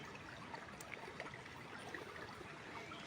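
Water in a shallow, low-flowing stream trickles and babbles steadily and quietly, close by, with no voices.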